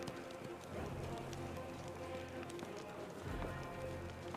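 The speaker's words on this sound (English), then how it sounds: "Some horses. Crusaders. Some more horses." Horses' hooves clip-clopping in the video game Pathfinder: Wrath of the Righteous, a steady run of overlapping hoofbeats over a dense, rain-like ambient bed, with no clear talk.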